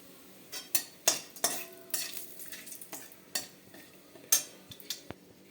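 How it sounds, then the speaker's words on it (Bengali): Whole spices, dry chilli, bay leaf, cinnamon, cloves and cardamom, temper in hot mustard oil with a soft, steady sizzle, while a utensil scrapes and clinks sharply against the pan in irregular strokes, close by, with no talking. "ফোড়নে দেবো শুকনো লং দিয়ে দেবো একটা তেজপাতা দেবো গোটা গরম মশলা দালচিনি লবঙ্গ আর এ আছে এলাচ"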